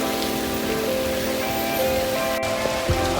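Heavy rain pours down steadily on the way to Dambulla, a dense, even hiss of drops striking surfaces with no voices over it.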